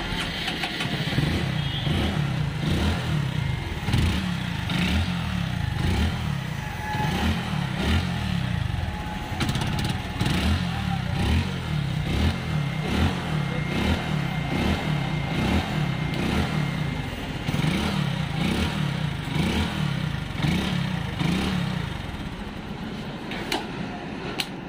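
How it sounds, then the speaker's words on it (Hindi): A Hero Glamour FI motorcycle with a current-missing fault starts and idles steadily, its single-cylinder engine thumping loud and close in an even rhythm for about twenty seconds before settling. "तो शायद आप लोगों को दिखा दूँ जो बाइक स्टार्ट हो रहा है कि नहीं"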